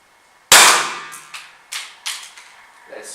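Airsoft 1911 pistol fired at a phone: one loud sharp crack up close, followed by a ringing metallic clang and several smaller clattering impacts that fade over the next few seconds.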